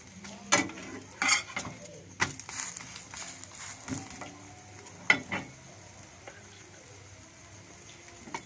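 Egg paratha frying in a pan, a low sizzle broken by scattered scraping and clattering of a spatula and utensils, louder in the first half and quieter toward the end.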